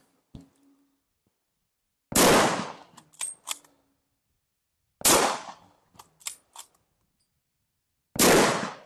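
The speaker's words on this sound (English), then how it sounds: "fire from a bolt action rifle, right?" Three sharp, loud blank rounds fired from a bolt-action rifle at a military museum demonstration, each crack followed by metallic clacks of the bolt being worked, evenly spaced in a quiet indoor setting.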